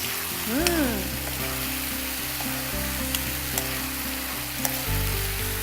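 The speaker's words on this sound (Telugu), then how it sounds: "గ్రేవీ మొత్తం చిక్కబడిపోయింది, చికెన్ కూడా ఉడికిపోయింది" Kadai chicken in a thickening gravy made with Vencobb chicken sizzles and bubbles in a pan, a steady close hiss with soft stirring scrapes and a faint low hum behind it.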